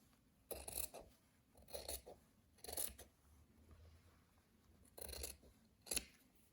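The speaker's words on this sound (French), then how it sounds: "Et je vais décaler, couper ici," Scissors cutting fabric along the selvage, five separate crisp snipping bursts at an uneven pace, close and quiet with no talk.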